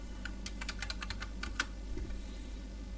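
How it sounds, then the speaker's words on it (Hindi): Fingers tap on a computer keyboard in a quick, uneven run of light key clicks, close and quiet, fading out after a second and a half. "वो कीबोर्ड पे टाइप करोगे तो आ जाएगा"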